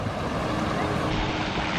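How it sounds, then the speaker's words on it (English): Floodwater gushes through a small culvert beneath a flooded country road, a loud, steady broadband rush of water with no pauses. "you can see the water gushing through the little culvert right there"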